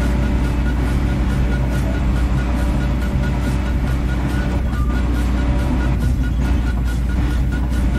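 A Volvo excavator's engine idles in Farming Simulator 22, a steady, unbroken diesel drone held at an even level throughout with no voices.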